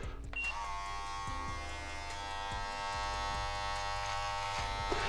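An electric beard trimmer with an adjustable blade length shaving the cheeks, a loud steady close buzz that shifts in pitch as it passes over the hair, running the whole time.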